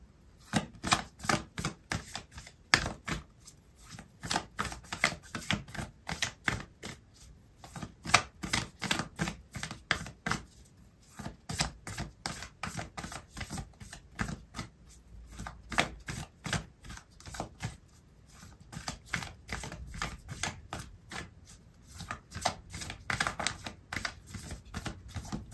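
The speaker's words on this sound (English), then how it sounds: "I'm going to pull out an oracle card for you" Oracle cards being shuffled and pulled for a tarot reading, heard as continuous rapid riffling flicks and taps in quick bursts with brief pauses, close and fairly quiet.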